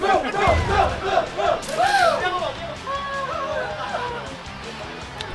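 A team cheers loudly during a Mario Strikers Battle League tournament, a crowd of voices shouting and whooping together at close range, fading a little toward the end.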